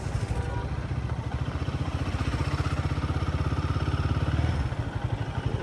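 A powerful motorcycle engine runs steadily in third gear, recorded up close, with a deep, rhythmic thudding exhaust pulse that holds an even pace throughout. No one speaks.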